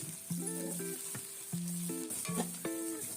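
Chopped onion frying in a pot for white beef pulao, a steady sizzle running alongside clear harmonic tones from another source that come and go. No talking.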